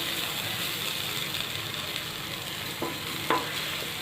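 Gram flour (besan) roasting in a pan gives a steady dry sizzle while it is stirred, with a couple of brief scraping clinks near the end and no talk.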